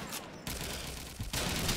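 Gunfire fills a competitive tactical shooter match, with bursts of rapid shots and sharp changes in loudness, all fairly quiet and heard without talk over them.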